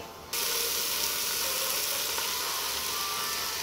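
Garlic and onion sautéing in a pan, a steady loud sizzle that starts abruptly after a brief quieter moment and continues evenly throughout.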